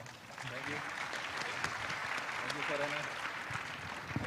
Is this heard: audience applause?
yes